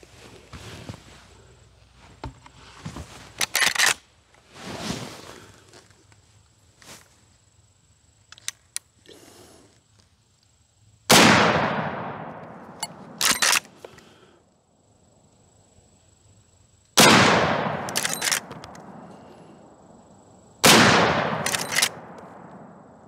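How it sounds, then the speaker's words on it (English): A Ruger-made Marlin 1895 Guide Gun in 45-70 fires on an outdoor range, with four sharp booming shots spaced several seconds apart, each ringing out after quieter handling and lever-action clatter in between. "Now, let's put some more rounds downrange."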